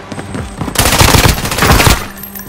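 Loud, close video-game gunfire breaks out in a sustained, rapid automatic burst lasting over a second, then tapers off, with no voices over it.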